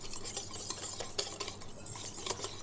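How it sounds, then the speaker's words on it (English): A liquid smoky marinade for coconut bacon is whisked in a bowl, a quiet, quick rhythmic clicking and swishing of the whisk against the sides, close but faint. "Then whisk this together."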